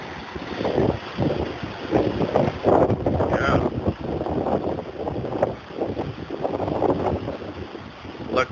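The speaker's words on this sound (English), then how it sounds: "Rain is kind of going sideways. It's not too bad yet. 25 mile an hour gusts." Gusty wind from Tropical Storm Ian, with gusts around 25 miles per hour and rain blowing sideways, buffets the microphone in loud, uneven surges that rise and fade over several seconds.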